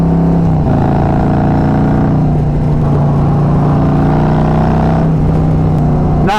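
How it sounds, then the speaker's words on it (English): A Harley-Davidson Road Glide motorcycle, just out of four weeks in the garage, revs and accelerates hard up close, its loud steady engine drone rising in pitch through the gears with a brief shift dip near the end. "Come on, I gotta open her up."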